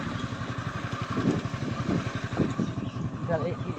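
A Yamaha R15 motorcycle rides off-road, its engine pulsing with a steady mid-pitched throb close by, while someone talks over it.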